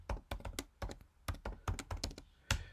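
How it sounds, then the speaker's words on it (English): A passphrase is typed on a computer keyboard: about a dozen crisp, close keystrokes in quick, uneven bursts, with a heavier final key press, and no talking over it. "So we just type that in."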